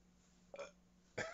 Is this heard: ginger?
no